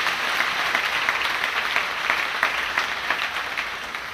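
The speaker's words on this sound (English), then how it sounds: "I want to hear you clap for Jesus again." A congregation claps in church, many hands blending into a thick, continuous applause with some sharper individual claps near the front, sustained for several seconds with no voices.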